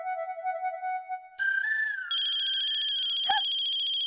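An electronic phone ringtone chimes in a sequence of bright melodic tones, shifting pitch partway through, close and clear with no talking.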